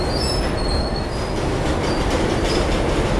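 A diesel passenger train hauled by twin ALCO locomotives on the Bhatinda–Firozpur–Amritsar route gives a loud, steady rumble with high wheel squeal and rail noise throughout, with no voices.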